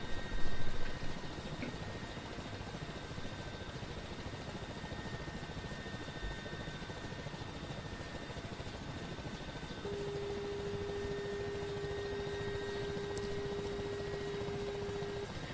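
An Mi-8 helicopter in the DCS flight simulator, its turbine whine and rotor drone holding steady and continuous at close range, with a brief louder swell at the very start and a sustained tone appearing in the latter part.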